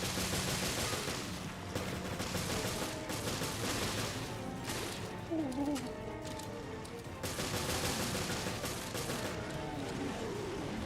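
Gunfire in Resident Evil: Revelations, rapid, continuous bursts of shots in a dense, loud volley with brief lulls between strings of fire.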